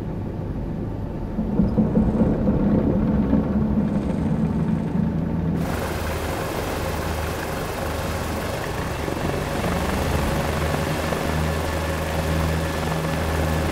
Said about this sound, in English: Accurate sound attenuation, ground reflection, and Doppler effects also have been implemented for true-to-life helicopter audio simulation.